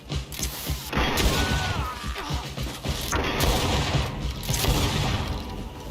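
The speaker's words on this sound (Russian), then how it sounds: "А раньше мне половину хп сносили этими выстрелами" Gunshots and heavy impacts from combat in the video game GreedFall, loud and continuous with sharp cracks and crashing bursts, close and without speech.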